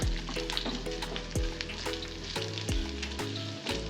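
Boiled, cut potatoes frying in oil for a fasting-day dosa, a continuous sizzle broken by repeated sharp scraping stirs of a spatula, close and alone.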